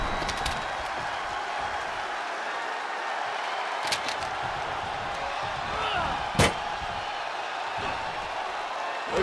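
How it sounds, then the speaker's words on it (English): In a WWE 2K24 wrestling match, a body slams through a table with one sharp, loud crash midway, set against a continuous arena crowd roar and a few smaller impacts. "The table and the body getting well acquainted there."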